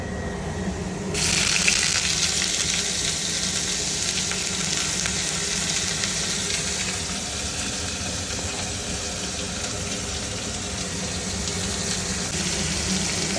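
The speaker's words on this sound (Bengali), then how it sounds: "রসুন দেওয়া হয়ে গেছে, রসুনটা তো একটু ফ্রাই হোক" Garlic frying in a pan gives a steady, dense sizzle with a faint watery hiss, starting a little quieter and holding constant throughout, with no voices.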